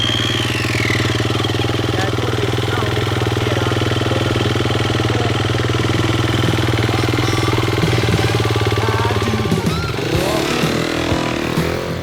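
A large enduro motocross motorcycle runs on sand at a motocross training course, its engine holding a loud, steady, close drone for several seconds before the note shifts and roughens near the end.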